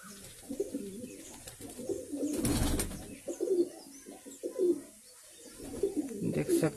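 Laldum red-tail high flyer pigeons cooing softly in a loft, low throaty coos repeating in uneven bursts at moderate distance, with a brief rustling burst partway through.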